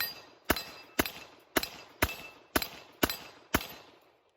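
A CZ Tactical Sport Orange competition pistol fires seven sharp, evenly spaced shots about half a second apart, each ringing briefly and heard at a distance with no talk.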